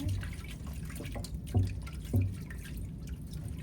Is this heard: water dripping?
yes